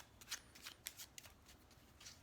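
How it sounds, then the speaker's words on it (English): Mini tarot card deck being shuffled by hand, quiet crisp riffling bursts in an irregular rhythm, close up and soft with no talking. "it is kind of hard to shuffle these mini decks"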